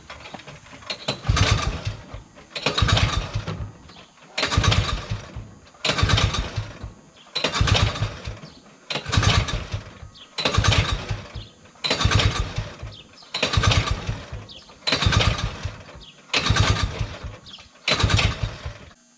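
An old Ski Whiz snowmobile with a single-cylinder 300-class engine, sitting unused for over twenty years, cranked with the choke on: about ten pulls in a steady rhythm, each a rough sputtering burst that never catches.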